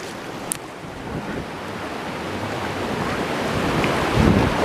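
Pacific Ocean surf rolls onto a foggy beach as a broad, steady wash of waves, blended with gusty wind rumbling against the microphone and building slightly toward the end.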